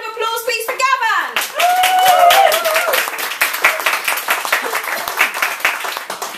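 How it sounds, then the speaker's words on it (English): Audience at a poetry show at the Edinburgh Fringe breaks into applause for a poet, a room of hands clapping steadily after a voice finishes announcing, with a few whoops early on. "So have a huge round of applause please for Gavan!"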